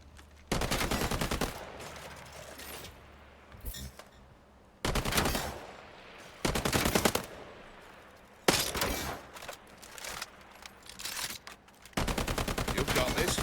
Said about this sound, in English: We can start by firing your weapon. Go ahead. Take some shots.